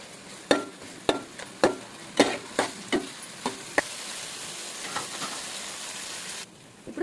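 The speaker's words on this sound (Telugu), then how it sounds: "ఇప్పుడు అల్లం వెల్లుల్లి పేస్ట్ వేసుకుందాము. ఇది కొంచెం ఫ్రై చేసుకోవాలి." Ginger garlic paste sizzles in hot oil for an Andhra-style pulao, with a steady frying hiss punctuated by a series of sharp spoon clinks and stirring scrapes close by.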